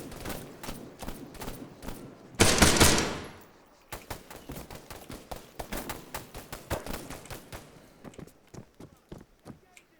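Rapid bursts of automatic and single rifle fire in the military shooter Arma 3, loud close shots with a heavy blast near the start, then repeated cracks continuing through the clip; voices call out in the background.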